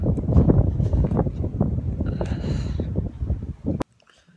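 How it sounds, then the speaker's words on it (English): Strong outdoor wind buffets the microphone in loud, rough gusts for several seconds, then cuts off abruptly. "It's so windy outside."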